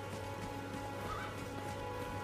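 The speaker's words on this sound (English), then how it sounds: "Can we nick his horse?" A horse in the game Elden Ring gives a short neigh partway through, set against a steady low ambient hum and faint hoof-like shuffles, moderately quiet.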